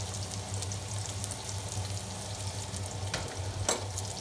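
Onions and shallots frying in a pan after roasted rabbit is removed, a soft continuous sizzle over a low hum, with a couple of brief utensil scrapes near the end.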